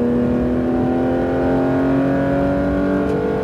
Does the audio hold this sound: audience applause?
no